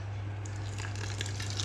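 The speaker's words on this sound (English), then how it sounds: "I'm going to add a little bit more water." Water is poured into a pot of chilli with a melting stock pot, a steady close gushing splash over a low electrical hum.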